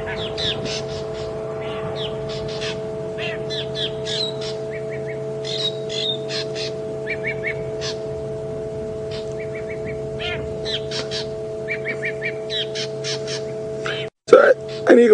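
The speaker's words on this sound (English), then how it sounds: "You can hear those drongas." Drongos chirp and call in rapid repeated bursts while harassing an eagle owl on a game drive at Djuma Game Reserve, heard over a steady vehicle engine hum with a loud knock near the end.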